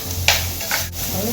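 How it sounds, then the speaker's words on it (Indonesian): Garlic frying in a pan for a tempeh steak, heard as two short stirring scrapes over a steady low sizzle, fairly close and alone. "Sekarang kita masak bawang putihnya."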